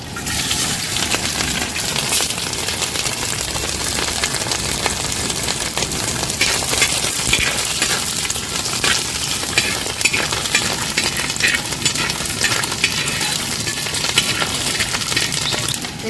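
Coconut pieces frying and being stirred in hot oil with curry leaves, a dense continuous sizzle with scraping stir sounds, loud and steady throughout.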